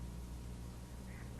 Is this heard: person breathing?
no